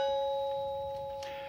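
A doorbell rings in a home, a bright sustained chime that fades slowly, with no voices.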